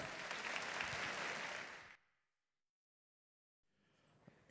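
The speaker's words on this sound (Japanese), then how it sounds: "さあ勝利者チームにもう一度大きな拍手をお願いします。" A large audience at a Capcom Fighting Jam tournament applauds the winning team, a dense roar of clapping for about two seconds that fades into silence, then a softer return of crowd noise.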